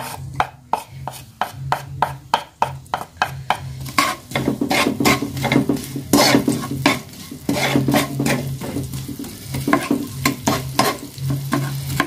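Loud sizzling and crackling from a hot wok as food is stir-fried, tossed and scraped, with rhythmic clanks of a utensil against metal and a low hum.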